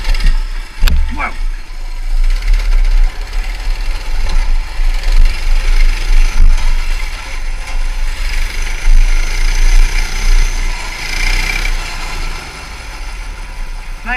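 Small gas engine of an engine-swapped Motovox mini bike controlled by a thumb throttle, running and revving at close range through a sustained stretch, with a person's voice heard over it.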